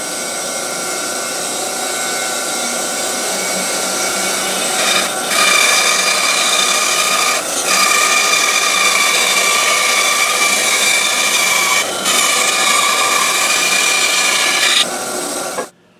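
A wooden guitar neck blank is cut out along a drawn line with a power saw, a loud continuous whining cut with brief dips and pauses as the blade moves through the wood.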